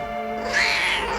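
A cat in heat lets out a single close, drawn-out meow rising in the middle of the short clip over a steady low hum.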